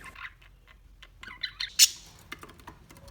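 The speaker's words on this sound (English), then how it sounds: "LoveBirds," Lovebirds give a run of sharp, high squawks and chirps, some close and loud, with one piercing shriek midway and no talking.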